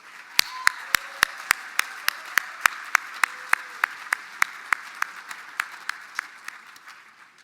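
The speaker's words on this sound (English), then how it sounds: "let's give them all a big round of applause" Scattered audience clapping at a Mille Lacs Band of Ojibwe State of the Band address, honoring royalty, color guard and singers; sparse, distinct claps spaced unevenly, with faint voices underneath.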